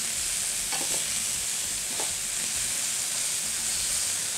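Pork medallions sizzle loudly in a stainless steel pan, a dense steady hiss of frying fat with a few soft scraping clicks as the pieces are turned.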